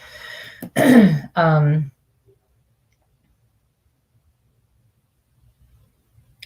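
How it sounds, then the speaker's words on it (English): A single rough throat clearing close to the mic, lasting about a second, followed by near silence. "now I'm having issues clearing my throat too"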